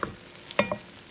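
Tomatoes stored since 2020 go into a hot pot of winter squash chili, with a few quick sizzles and stirring clatters in a short burst, close with no talking.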